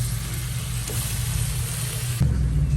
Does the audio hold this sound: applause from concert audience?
no